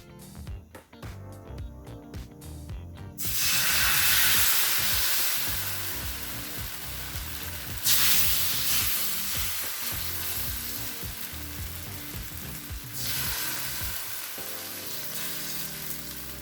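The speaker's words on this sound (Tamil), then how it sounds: "நம்ம தக்காளி ரவா தோசை ஊற்றிடலாம்" Tomato rava dosa batter hits a hot griddle after some utensil clatter, erupting into a loud close sizzle that surges again twice before easing off.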